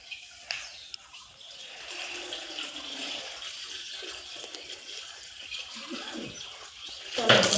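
Tap water running into a bucket in a bathroom, a faint, steady splashing trickle that continues throughout, with a louder clatter at the very end.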